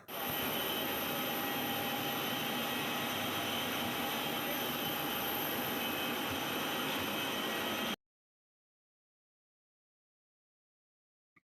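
Air India passenger jet at an airport, a steady loud engine roar with broad hiss lasting about eight seconds before cutting off abruptly, followed by near silence.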